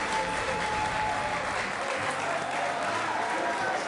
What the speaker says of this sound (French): On peut aussi applaudir